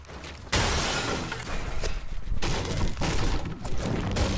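A light machine gun fires in Fortnite in dense, continuous bursts. The booming, crackling gunfire stays loud and close and barely pauses.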